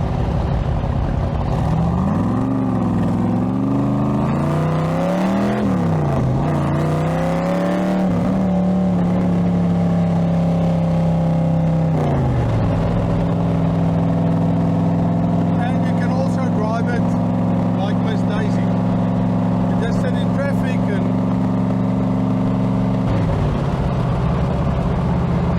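A loud V8 engine of a Cobra sports car revs and rises in pitch several times, then settles into a deep, steady idle rumble close by.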